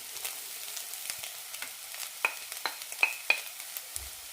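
Crushed masala stir-fried in a pan for a jackfruit seed and egg stir fry, with a soft continuous sizzle under repeated scraping strokes and a few sharp metallic clicks of the spatula, up close and without speech.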